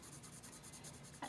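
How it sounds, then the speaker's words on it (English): A 2B pencil shading a daisy drawing on paper, giving a soft, steady scratchy hiss of graphite with a brief louder stroke near the end. "I'm going to shade it with my pencil"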